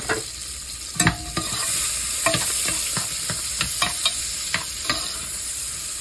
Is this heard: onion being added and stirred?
yes